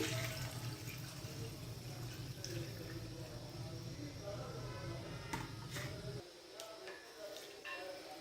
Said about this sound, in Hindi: चिकन की भुनाई करने के बाद अब हम यहाँ पर यखनी ऐड करेंगे।